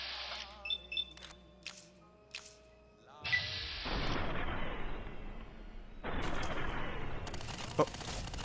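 Gunfire in the video game Fallout New Vegas: after a stretch of game beeps and tones, dense loud bursts of shots and booming impacts start suddenly and keep going, with a brief gap before they resume.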